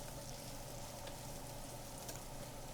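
Thai basil beef sizzling hard in a hot pan while being stirred, a loud, continuous, close frying hiss with no speech.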